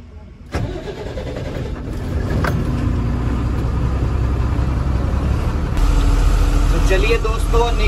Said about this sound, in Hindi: तो चलिए करते हैं भाई गाड़ी को स्टार्ट